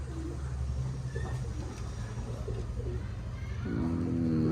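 Pigeons coo in low, soft, repeated phrases around a pigeon loft, growing a little fuller toward the end over a steady background hum.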